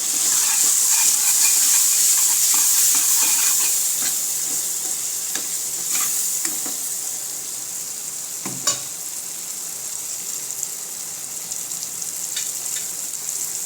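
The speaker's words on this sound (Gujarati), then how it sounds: "થોડી વાર તેલમાં બધા મસાલા થઈ જાય" Spices frying in hot oil with chopped tomatoes, salt, turmeric and red chilli powder, heard as a steady hiss and sizzle with occasional stirring clinks, loudest at the start and easing off, no talk.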